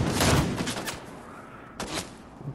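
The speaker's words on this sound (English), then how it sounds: "What the fuck are they shooting from?" Enemy gunfire in a Fortnite duo match, a loud burst of rapid shots at the start fading into scattered, more distant cracks and thuds, with no talking.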